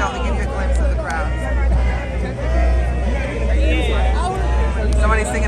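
Dense crowd chatter fills the Fontainebleau Las Vegas casino floor at its grand opening, a steady indoor hubbub of many overlapping voices with a nearer person talking over it throughout.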